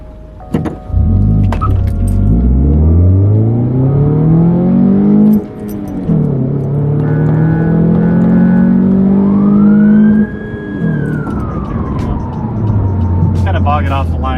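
A second-generation Scion tC with a manual gearbox pulls hard from a standstill toward 60 mph, its engine note climbing steadily, dipping at each shift and rising again, loud and close, before easing off as it slows.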